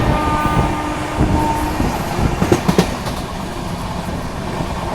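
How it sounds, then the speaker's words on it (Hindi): An express train running at speed on an Indian line while overtaking the Triveni Express, with a steady roar of rolling stock, a few sharp clatters of wheels over rail joints, and faint tonal squeals. "और यहाँ पर हम ओवरटेक कर रहे हैं त्रिवेणी एक्सप्रेस को। बढ़िया रफ्तार में ओवरटेक हो रहा है"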